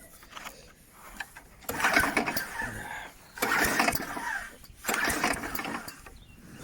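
An Atco Balmoral 17S petrol lawn mower, newly fitted with a fuel pipe and its carburettor unused for seven years, cranks in three separate bursts, each churning for about a second and failing to catch.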